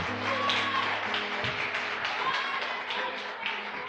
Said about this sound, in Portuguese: Você que crê, aplauda o Senhor bem forte